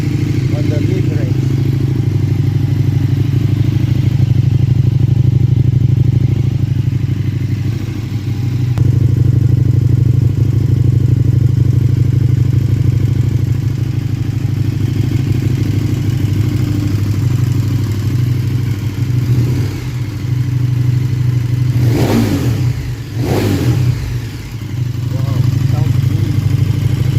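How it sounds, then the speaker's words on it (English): A KTM 1290 motorcycle engine with stock exhaust and an ESE-KT3 module runs loud and steady close by, with a low, raspy mid-range drone and a couple of quick blips near the end. "It feels like no more delay on revving the engine on the mid-range."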